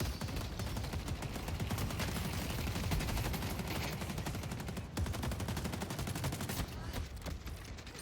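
Automatic turrets in the video game Deadlock firing in rapid sustained bursts, dense continuous gunfire with a brief break midway, loud and close.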